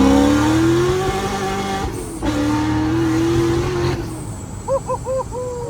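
A loud Chevrolet C6 Corvette engine revs hard and close, holding a high, rising roar. It drops back, surges again, then settles to a lower rumble, with a few brief squeaky tones near the end.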